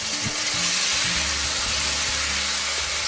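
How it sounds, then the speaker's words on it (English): Tomato sauce poured over fragrant spices in a hot pan for chicken mole sputters into a dense, steady hiss, loud and close throughout. "Then we'll add half a can of tomato sauce"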